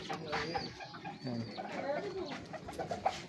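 Racing homer pigeons cooing softly in a loft, low throaty coos and faint rustling, with someone talking quietly nearby.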